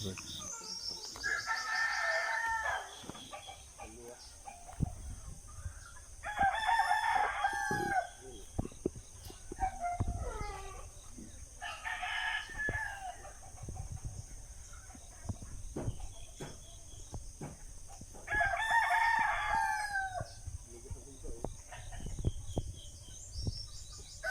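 Several roosters crow in turn, loud and drawn out, over a busy background of chickens clucking and scattered bird chirps behind a rural house in the Philippines, with a steady high hiss throughout.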